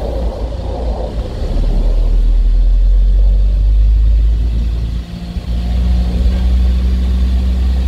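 A car's engine rumbles loud and close as the driver presses the gas pedal, with the low drone swelling and holding steady and a brief dip midway.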